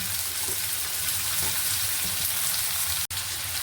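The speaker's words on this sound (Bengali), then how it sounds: "গাজর শক্ত জিনিসগুলো আগে একটু ভেজে নিচ্ছি আর দেবো রাঙা আলু" Carrots and sweet potato frying in a pan, a dense continuous hiss of hot oil sizzling steadily throughout, briefly cut off once, heard close with no voices.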